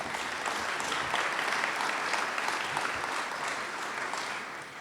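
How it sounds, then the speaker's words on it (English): Audience applause at a college reunion reception during the Tower Circle gathering, a dense steady round of clapping from a large crowd lasting several seconds before tapering slightly at the end. "If we could have a round of applause."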